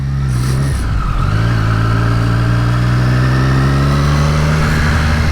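A 2023 Triumph Street Triple 765 RS engine pulls steadily while riding, its tone rising through the revs, loud and close with continuous wind rush.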